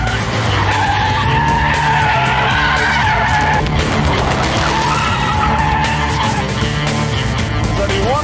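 A Vauxhall VX220 slides through a corner on a racetrack, its tyres squealing loudly for several seconds in sustained oversteer over a loud, close engine roar, the squeal briefly dropping off and then returning.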